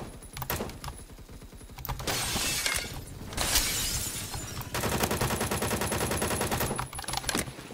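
Battle rifle gunfire in the video game Phantom Forces: loud, rapid bursts of shots with crackling, glassy impacts, separated by brief pauses.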